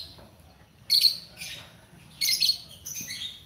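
Lovebirds kept in a home aviary give several short bursts of bright, high chirping, clustered around four moments over a soft, low background hum.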